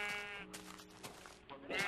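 A game sheep gives a drawn-out, wavering bleat, loud and near, then another rises at the end, with faint background sound between.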